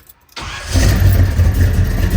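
A tuned 1971 Chevrolet Chevelle hot rod cranks briefly and fires, then settles into a loud, steady, rumbling V8 idle heard up close with no talking.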